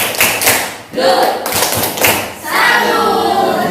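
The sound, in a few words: classroom "tepuk salut" clapping routine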